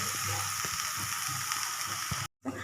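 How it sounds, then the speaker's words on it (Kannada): Tomato masala sizzles steadily in hot oil in a pan, a close, continuous hiss with faint stirring clicks that cuts out briefly near the end. "ಇದು ಟೊಮೊಟೊ ಎಲ್ಲ ಇರುತ್ತಲ್ಲ, ಅದರಲ್ಲಿರೋ ನೀರಿಗೆಲ್ಲ ಚೆನ್ನಾಗಿ ಫ್ರೈ ಆಗಿಬಿಡುತ್ತೆ"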